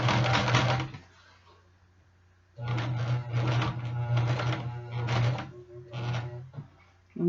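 A sewing machine stitches across a leather jacket sleeve while a zipper is added, running in short slow bursts with a steady low motor hum and a rhythmic needle clatter, separated by brief pauses.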